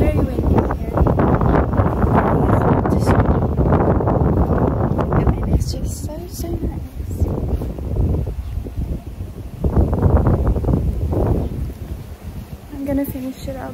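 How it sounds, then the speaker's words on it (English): Strong gusting wind near an airport on a tropical vacation buffets the microphone in loud, rushing waves, rising and falling, with a person talking through it. "It's getting very windy."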